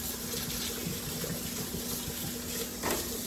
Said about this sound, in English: let's rinse them with cold water